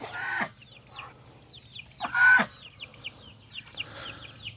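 Chickens cluck and chirp close by in short bursts, with a couple of louder squawks mixed in over a low steady hum.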